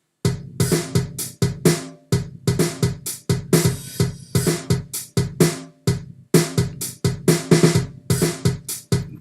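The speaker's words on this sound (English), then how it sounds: "And then I added some Logic tight drums." Tight, dry drum kit pattern from Logic's built-in sample library, unprocessed, for a remix: punchy repeated kick-and-snare hits in a steady driving rhythm, loud and close, with no voices.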